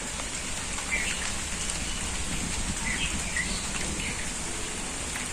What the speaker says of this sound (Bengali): বৃষ্টি শুরু হয়েছে গুড়ি গুড়ি বৃষ্টি শুরু